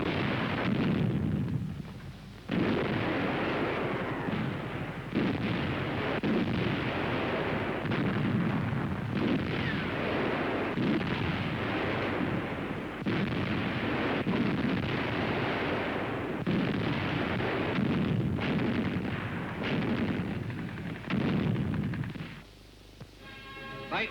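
Barrage of light artillery fire, dense continuous booms and bursts rolling almost without pause for most of the stretch, loud and broadband, briefly dropping away near the end.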